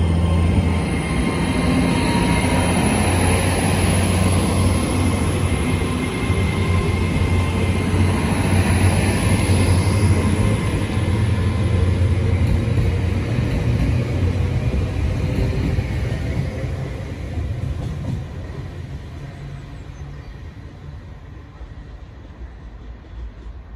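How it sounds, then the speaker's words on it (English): A Great Western Railway passenger train rumbles loudly and steadily as it pulls away from Malvern Link station, its low roar holding for a long stretch before fading into the distance. "Departing out now is the slightly delayed 1611 Great Western Railway service from London Paddington to"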